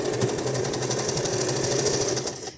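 A sewing machine runs steadily, stitching a soft fabric slipper boot, a continuous close mechanical whir with a fast even rhythm and no pauses.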